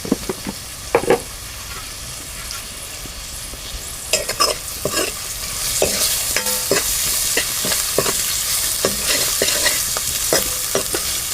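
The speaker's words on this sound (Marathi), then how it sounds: "तांबूस होईपर्यंत आपण जरा शिजेपर्यंत तो परतून घेऊ" Onion and masala paste sautéing in a pan: loud, close sizzling builds and thickens midway, with frequent clicks and scrapes of a spoon stirring against the pan, and no voices.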